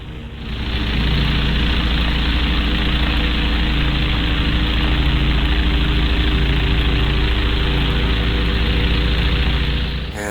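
A Piper Saratoga propeller airplane engine roars steadily and loudly at takeoff, a constant heavy drone with strong low rumble that holds alone for about ten seconds with no voices.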